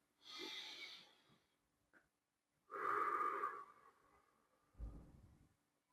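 A person pauses to breathe, taking a few slow, audible breaths in and out, close and fairly quiet, with short silences between them and no talk.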